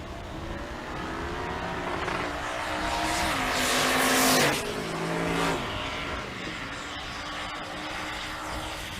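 Cars at a drag strip event, including an '86 Fox body Mustang, roaring down the racetrack in a sustained loud engine howl whose pitch climbs and shifts as the cars accelerate away, with the roar of a second car overlapping.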